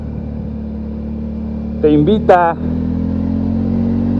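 Italika Vort-X 300R sport motorcycle on a test ride, its engine droning steadily near the rider beneath a brief burst of speech.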